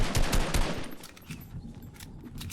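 Rapid bursts of automatic gunfire in a Fortnite match, a dense run of loud sharp shots at the start that thins into scattered quieter reports.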